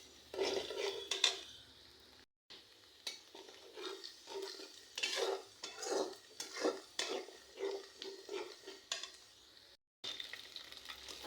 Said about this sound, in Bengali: আমি তেলের ভিতরে ঝাল আর পেঁয়াজ দিয়ে দিয়েছি। এখন এটাকে আমি লাল করে ভেজে নেব।